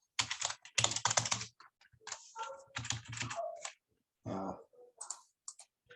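Someone types a password on a computer keyboard, with close, crisp bursts of rapid key clicks separated by short pauses and a few isolated taps.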